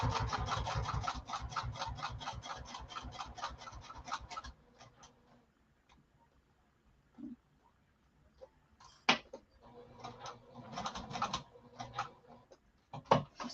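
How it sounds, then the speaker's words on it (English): A sewing machine stitches a lining to a pocket in fast, even needle bursts, first a long run, then quiet gaps with a few short stitching runs and handling noises. "Stitching across the bottom now"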